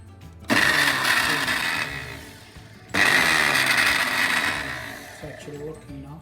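A Panasonic mixer that had stopped working runs again after its reset switch is pressed, whirring up loudly in two separate bursts, each starting abruptly and slowly winding down, heard close with no talking.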